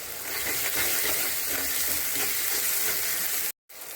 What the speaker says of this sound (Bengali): মশলাটা একটু ভালো করে ভেজে নেই, তারপরে দিয়ে দেবো সরষে বাটা।